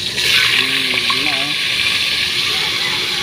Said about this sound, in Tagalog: prito na natin yung ating minarinate